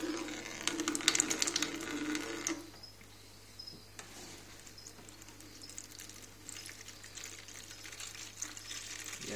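Water pouring out as a chameleon terrarium is emptied, a bright splashing stream at first that gives way to quieter trickles and drips.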